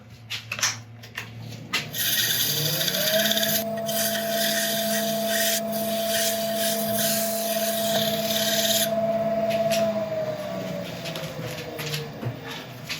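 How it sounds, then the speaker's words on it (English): Sandpaper rubs against a spinning wood piece on a lathe, a steady raspy hiss with a sustained motor hum running from about three to ten seconds, close and fairly loud without any talk. "A little bit of sandpaper."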